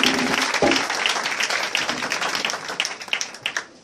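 Church congregation applauding and cheering for Jesus during a worship service in Divo, a dense sustained wash of many hands clapping with a crowd roar, loud and continuous throughout with a brief low thump near the start.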